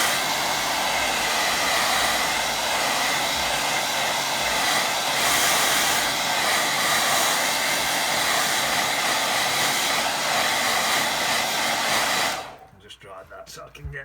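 A hair dryer blows steadily on a wet watercolour painting for about twelve seconds, a loud continuous whooshing drone, then switches off abruptly, leaving near silence with faint room sound.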